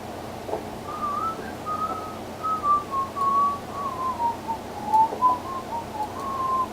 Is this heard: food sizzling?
no